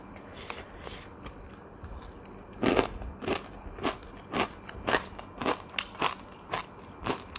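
Crisp crunchy bites into a ripe djenkol bean (luk niang), a string of sharp, close crackling crunches repeating roughly every half second, with no talking.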